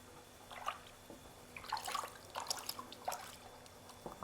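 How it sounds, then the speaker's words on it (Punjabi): A dupatta dipped into plain water while being rinsed after home dyeing; faint, close drips and soft sloshing trickles in irregular bursts, with no talking. "ਹੁਣ ਜੀ ਆਪਾਂ ਇਹਨੂੰ ਸਿੰਪਲ ਪਾਣੀ 'ਚ ਡਿਪ ਕਰ ਲੈਣਾ ਹੈਗਾ"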